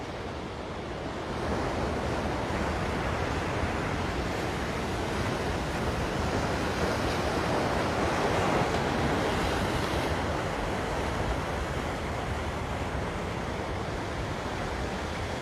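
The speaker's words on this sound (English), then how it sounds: "can you hear the waves pretty solid, Lance?" Ocean surf breaks steadily on Ala Moana Beach in Hawaii, a broad, continuous wash of roaring waves that swells slightly after the first second and holds loud throughout, with no voices.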